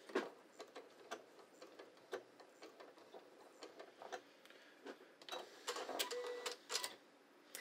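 A sewing machine stitches around a pull-on pants waistband in irregular bursts of rapid ticking, growing denser and louder near the end as the seam is overlapped and locked off.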